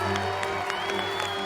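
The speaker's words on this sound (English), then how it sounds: "Round of applause for Dan," Brief, steady applause from a studio audience for the finalists of a televised baking competition, heard under a low hum and a tonal background for about a second and a half.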